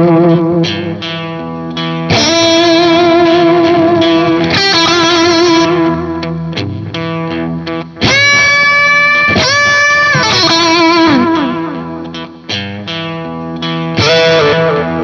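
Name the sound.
electric guitar through Wampler Black '65 Vintage Overdrive pedal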